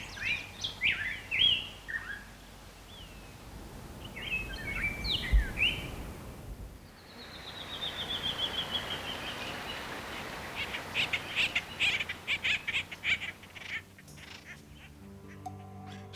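Several birds call in the Chiricahua National Monument of Arizona: rapid chirping bursts come first, then a long descending whistle, and later a run of quick repeated notes. The calls are moderately distant over a soft background hiss.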